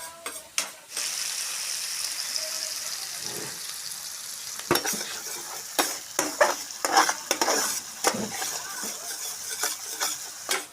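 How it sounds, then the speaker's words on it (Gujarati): Ginger, garlic and chili paste fries in oil in a pan, a steady sizzle broken by scraping and clinking stirs with a metal spoon. "આપણે બે મિનિટ આને તેલમાં પકાવી લઈશું આદુ લસણ લસણના મરચાંની પેસ્ટને"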